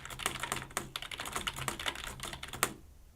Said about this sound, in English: I know some of you have been asking me to do a sound typing test with the keyboard in a correct position like this